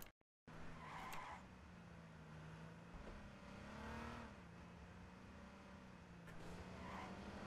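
A brand-new car in the H1Z1 video game revs with a wavering engine drone, rising and falling in pitch, with tire-skid noise over a steady rumble.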